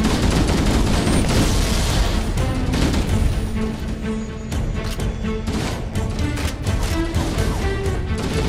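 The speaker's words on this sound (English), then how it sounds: "But now they're using guns." Enemy gunfire in Halo: Combat Evolved Anniversary, dense rapid shots and blasts layered over loud continuous battle noise and rumbling booms, sustained throughout with no talking.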